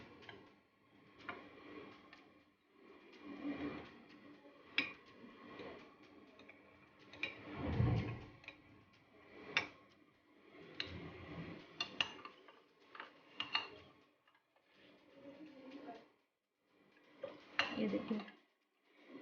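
A spoon stirs custard into milk in a pan, giving intermittent clinks and scrapes against the metal in uneven bursts, with quiet pauses between strokes.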